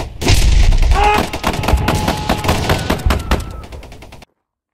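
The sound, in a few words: rapid gunfire, magazine dump from a gun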